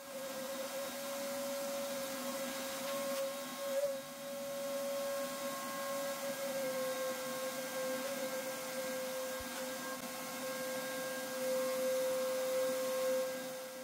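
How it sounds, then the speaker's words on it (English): A vacuum cleaner runs steadily with a constant high whine and airy roar, with faint bumps as the nozzle moves over refrigerator coil dust, and no voices. "You're gonna wanna vacuum all of this out"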